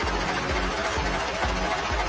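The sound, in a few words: car engine idling after start, Mitsubishi Strada/Triton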